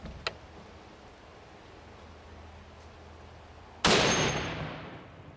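A single booming blast from a Barrett .50 BMG rifle firing at titanium, loud and sharp with a long fading roar, after a quiet stretch of faint ambient noise and one small click.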